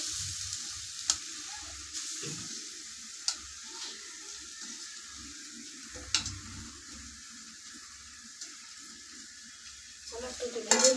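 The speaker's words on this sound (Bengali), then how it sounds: "এই যে দেখো কুড়া নারকেলগুলো দিয়ে দিলাম ঘিয়ের মধ্যে একটু ভাজবো এটা" Grated coconut fries in ghee for jaggery coconut naru, with a soft, low sizzle and intermittent scraping stirs and utensil taps, nearby and fairly quiet.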